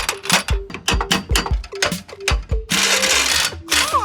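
Rapid ratcheting and whirring of a tool backing a bolt out of a car, quick repeated bursts up close, ending in a harsher buzzing run.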